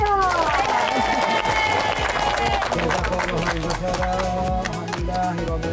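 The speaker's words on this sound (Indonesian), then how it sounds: "Tepuk tangannya" Applause from a studio audience at a house-handover show as a goat is given to a family, steady clapping and cheering running loud throughout beneath music and a host talking.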